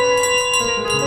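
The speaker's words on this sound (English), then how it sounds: "They seem to value this bell quite highly, for sure." A bell rings in Untitled Goose Game, its bright sustained chime holding steady tones with a few softly repeated strikes, loud and close, with no voices over it.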